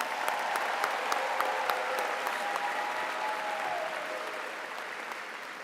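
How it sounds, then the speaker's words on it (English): Graduation audience at West Forsyth High School applauding steadily, a dense wash of many clapping hands with sharp individual claps standing out, sustained for several seconds without speech. "give Mr. Chad Davenport and Miss Sarah Loftus a round of applause for getting through all of those names"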